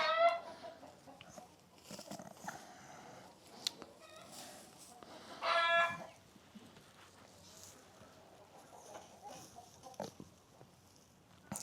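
A rooster perched in barn rafters gives scattered clucks and squawks, with a louder flurry near the middle, alongside quieter farmyard grunts in a dim, mostly quiet space.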